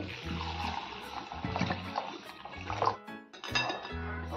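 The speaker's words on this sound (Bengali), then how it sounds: "এখন আমি ডালটা ধুয়ে নিব ভালো করে, পরিষ্কার করে জল দিয়ে" Masoor lentils are rinsed with water in a vessel, producing a continuous swishing, sloshing wash with occasional light clinks, close and fairly quiet.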